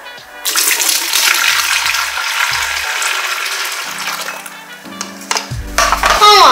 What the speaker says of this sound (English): I'm going to go ahead and pour this into my bigger pitcher so I can continue on